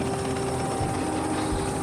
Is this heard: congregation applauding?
no